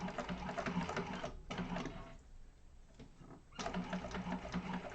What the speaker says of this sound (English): Top stitch. And I'm going to chain stitch them.